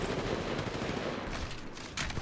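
Rapid automatic gunfire in an Apex Legends-style ranked shooter match, a dense continuous rattle of shots with bursts of impact noise, loud and close with no talk over it.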